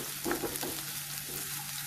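Garlic sizzles in hot oil over lowered heat, a soft, steady frying hiss with a few brief crackles and stirring sounds, close and quiet, no voices.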